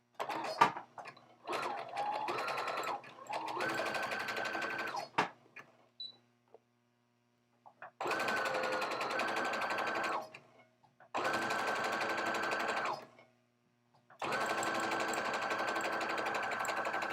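Sewing machine running a zigzag stitch along the edge of a handmade sock, in four steady close bursts of stitching separated by short quiet pauses.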